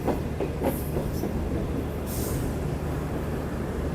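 Green Line passenger train in Pakistan approaching Ladhi junction, a steady loud rumble of rolling wheels and carriage noise with faint rhythmic clatter, heard throughout with no speech.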